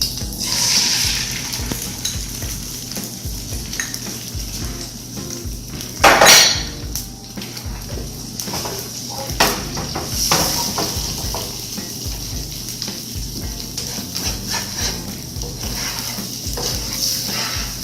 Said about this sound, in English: I'm going to add a little bit of oil, maybe a tablespoon of vegetable oil. Put in the egg.